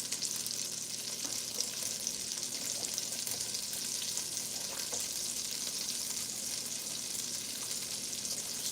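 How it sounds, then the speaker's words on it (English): Macaroni noodles sizzle in a hot pan while being stirred, a steady close crackle with faint scraping underneath and no talk. "Stirring my noodles."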